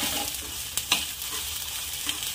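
Soybean chunks being stirred and fried in oil give a soft, steady sizzle with a few brief scraping clicks from the stirring, heard close and fairly faint.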